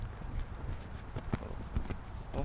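Horse hooves trotting, a regular clip-clop of hoof strikes at an even pace, fairly close, with faint background noise between beats.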